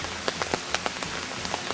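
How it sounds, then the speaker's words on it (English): Steady rain patters on a surface, with scattered louder drops tapping irregularly over a constant hiss. "And this is the first day of the rain."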